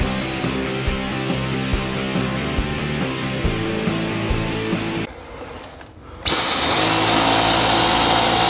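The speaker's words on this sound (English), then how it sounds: "So we're gonna be cleaning them with the V10." A Dyson V10 Motorhead cordless vacuum cleaner runs on carpeted stairs, a loud motor whine with rhythmic brushing and bumps as the head moves step to step, then switching to a high, steady suction whine.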